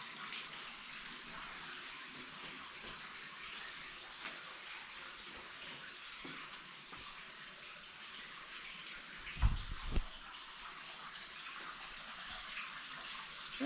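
Spring water streams steadily out of the rock at the Grotto Spring in Eureka Springs, Arkansas, a constant close rushing wash with a couple of soft knocks partway through.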